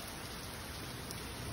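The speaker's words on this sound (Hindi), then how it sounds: "बारिश हो रही है, बारिश इंजॉय करनी है हमने" Rain falls steadily outdoors behind a house on a rainy day, a soft, even hiss of drops on surfaces, faint and continuous with no talk.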